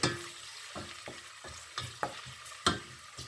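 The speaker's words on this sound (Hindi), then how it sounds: "ये लो, इसको बिल्कुल जो है ना ब्राउन होने तक इसको पहले जो है ना ये भुने।" A large onion fries in a pot for kala chana pulao, sizzling under a run of sharp stirring scrapes and knocks about every half second, close and fairly loud.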